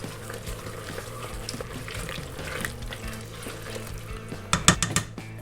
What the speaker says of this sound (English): Next we're going to throw in the potatoes.